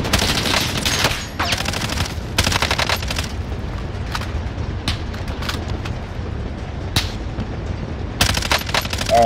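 Rapid automatic gunfire in the shooter Call of Duty: Modern Warfare, bursts of machine-gun fire ripping out in loud, close volleys with short gaps between them over a steady low rumble of combat.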